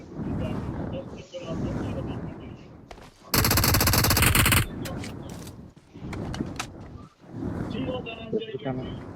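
Rapid automatic gunfire in a video game, one loud sustained burst of about a second, set between stretches of someone talking.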